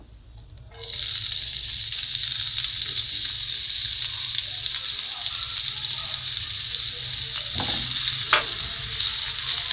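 Chopped onions drop into a hot pan of oil for Alexandrian-style liver and start frying, a sudden close sizzle that settles into a steady crackling hiss with occasional stirring scrapes.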